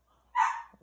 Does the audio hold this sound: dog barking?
yes